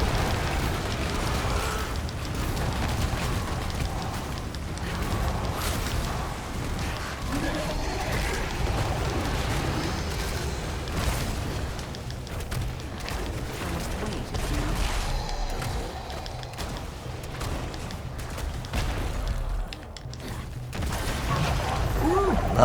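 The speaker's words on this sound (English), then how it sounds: "Let's pop our ulti. We're gonna shoot these skulls out." Necromancer ultimate firing a volley of skulls in Diablo Immortal, a dense, continuous barrage of impacts and magical bursts at steady loudness, with combat effects layered throughout.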